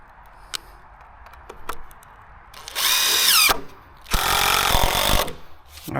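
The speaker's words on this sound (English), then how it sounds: "And then I'll put the second set of screws in there." A power drill drives screws into wood during treehouse construction, two loud whirring bursts of about a second each, with scattered clicks and handling knocks between them.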